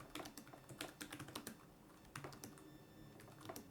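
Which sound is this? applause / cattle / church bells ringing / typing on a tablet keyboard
typing on a tablet keyboard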